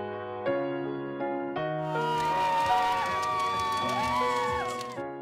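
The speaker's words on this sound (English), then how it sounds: "I like to listen to the young people with their calls about Canada." Crowd of young people at the 2010 Olympic Torch Relay in Devon, Alberta, cheering and whooping, with a sustained mass of overlapping shouts and voices building after a few sharp calls.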